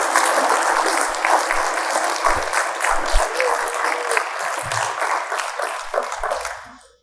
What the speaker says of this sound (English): Please give Tierney a round of applause.